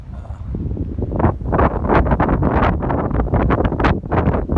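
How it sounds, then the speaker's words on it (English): Strong gusty wind whooshing through swaying treetops on a snowy Appalachian Trail mountain section, loud continuous roaring rushes with buffeting on the microphone and no voices. "Wind's quite a bit whooping. I mean, if you can see the treetops just swaying."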